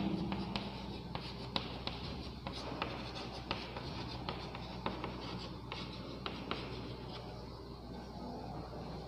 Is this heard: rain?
no